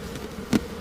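A mass of honey bees from a package being installed in a hive hums with a steady close buzz, with one brief louder swell as bees move nearby.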